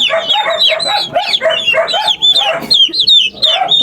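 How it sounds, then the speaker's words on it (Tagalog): Several turkeys on a rural farm calling in dense overlapping clucks and warbling gobble-like notes, loud and close, with near-continuous chatter and no talking. "Ito yung mga pabo guys."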